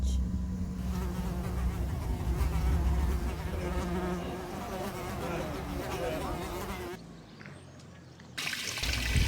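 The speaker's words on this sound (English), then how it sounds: "I am not going to be playing the let the wasp crawl around on my toe game, as Becca so many times does." A wasp buzzes close to the microphone on a narrowboat, a steady insect drone that cuts off near the end, with a voice briefly heard.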